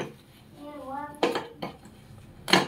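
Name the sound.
washing dishes, pots and pans clattering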